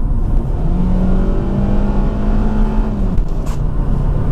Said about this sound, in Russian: когда ты едешь, двигатель действительно очень громко работает